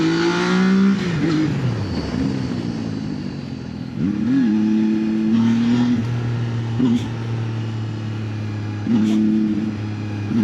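Zontes 703F motorcycle engine revving up and down on a test ride, loud and close, with a shifting, rising and falling pitch.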